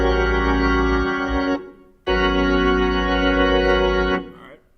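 Sustained piano chords with a G in the bass, two long held voicings separated by a brief gap, loud and close with no talking.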